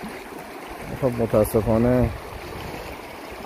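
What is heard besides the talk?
clean river water flowing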